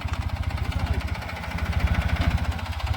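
Two tractors run in a sugarcane field, engines chugging in a steady, loud, low rhythmic beat throughout with no voices.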